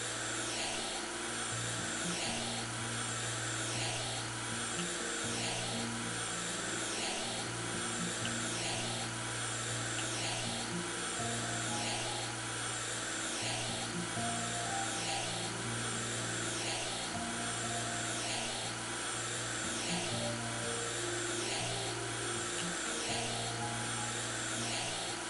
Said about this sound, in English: Let's clean these windows